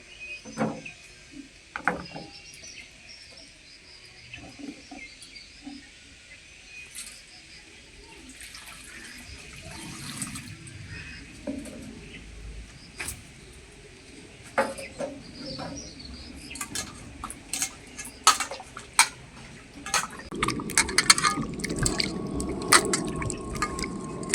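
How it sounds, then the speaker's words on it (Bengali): Pieces of raw papaya are washed by hand in clean water, with splashing, dripping and swirling of water in a container, quiet at first and growing busier and louder near the end. "এখন পেঁপেগুলোকে আমি পরিষ্কার জলে ধুয়ে নেব।"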